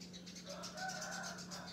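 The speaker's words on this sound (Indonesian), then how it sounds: "sebenarnya ada burung juga di belakang sana" Birds call faintly in the background outdoors, distant chirps and flutters over a steady low hum.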